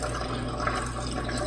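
Vinegar pours into a canning pan, a steady liquid trickle and splash, close and fairly quiet, with no talking.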